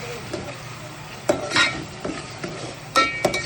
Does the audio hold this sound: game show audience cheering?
no